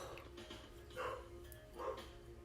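A chihuahua barking in the background of a room, two faint, distant yaps about a second apart under a low steady hum.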